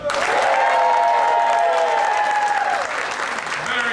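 A live comedy show audience practices its welcome, bursting into loud sustained clapping mixed with cheers and yelling, dense and close before easing slightly near the end.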